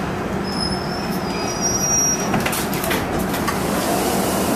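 A Newark-bound PATH subway train rumbles steadily along the tracks between WTC and Grove Street, wheels squealing in high thin tones over a continuous low roar, close and loud throughout.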